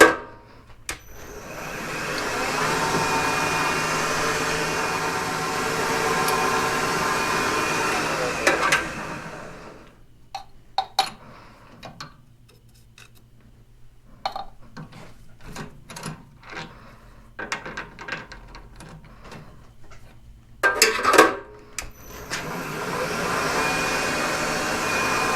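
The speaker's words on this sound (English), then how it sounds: "going to put a center drill in and drill all the ends, spot drill all the ends" A center drill spot-drills the ends of 3-inch spacer blocks on a machine: a steady whirring run of about nine seconds, then quiet with scattered clicks and handling knocks, before the motor spins up again at the end.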